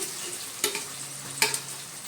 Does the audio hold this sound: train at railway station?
no